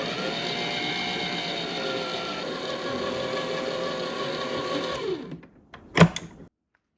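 An electric mixer runs on low speed for a homemade recipe, giving a steady close whir for about five seconds before it switches off, followed by a brief clunk.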